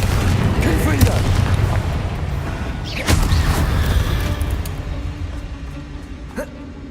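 The Confringo fire spell in the video game Hogwarts Legacy sets off booming explosions, with a sharp blast near the three-second mark over a dense, continuous rumble of game action and effects.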